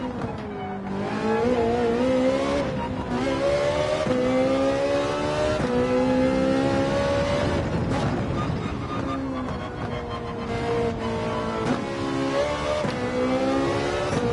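Race car lapping the Nurburgring in Gran Turismo 7: a loud, close engine revving hard through gear changes, pitch climbing and dropping under braking and acceleration, with faint tire noise.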